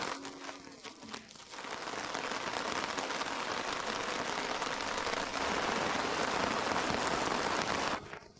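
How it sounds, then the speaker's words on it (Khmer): Heavy rain falling in a deep forest beside a lake, building within a couple of seconds into a dense, steady hiss of downpour that stays loud and even, with no voices. "ភ្លៀងខ្លាំងមើលភ្នំលែងឃើញហើយ"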